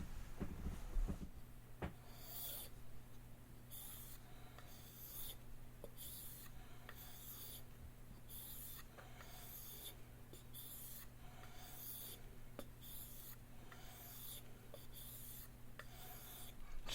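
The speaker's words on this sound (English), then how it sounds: "now I'm going to run it through to across a chromium pasted strop." A Marbles Large Stockman knife blade is stroked across a chromium-pasted strop in soft, regular rubbing passes, each about a second apart. The sound is faint and close over a low steady hum.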